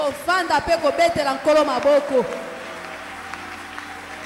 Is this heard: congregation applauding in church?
yes